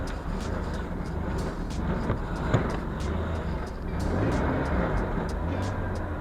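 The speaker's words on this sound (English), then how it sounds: "The car runs like crap, but hey, it started." A car idling roughly just after being jump-started with a cordless drill battery, a steady low engine rumble running continuously at close range with no talk over it.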